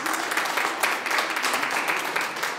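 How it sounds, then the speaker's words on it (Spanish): A church congregation breaks into brief, lively applause during a Spanish-language sermon, many hands clapping in a dense, close wash that swells and dips over a few seconds. "Dale un fuerte aplauso a Cristo y a Dios."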